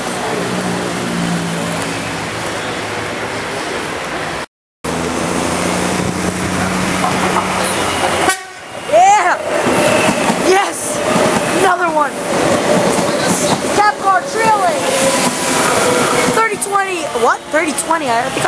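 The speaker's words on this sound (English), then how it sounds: "I thought I saw that train earlier" A train rumbles past nearby in Vila Olimpia, its long roar broken by rhythmic clattering and a brief dropout, with voices faintly underneath.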